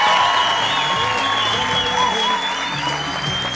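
An audience at a talk gives loud, sustained applause, many hands clapping together in a dense, continuous wash close by.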